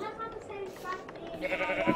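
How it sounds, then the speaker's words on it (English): Sheep bleating in the video game Minecraft, a few short bleats alongside players talking over each other. "I'm just chasing after some sheep so we can get a bed."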